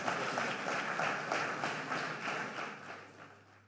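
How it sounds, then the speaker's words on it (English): An audience at an economic summit award ceremony in Nigeria claps for the winners, a fairly distant, even wash of applause that slowly fades toward the end. "A round of applause for them."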